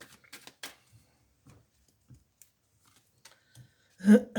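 Tarot cards handled and laid down on a table, with soft scattered slides and taps, quiet and close, then a louder flurry of card handling at the end.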